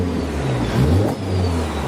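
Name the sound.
Honda Civic FK8 turbo flutter and spool whistle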